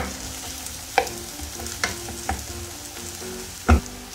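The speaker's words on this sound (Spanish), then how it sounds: "hemos puesto una sartén al fuego con un chorrito de aceite de oliva y ahora vamos a echar la cebolla y el ajo" Onion and garlic frying over low heat in olive oil in a skillet, a close, steady sizzle punctuated by several sharp spoon knocks and scrapes, the last one loudest.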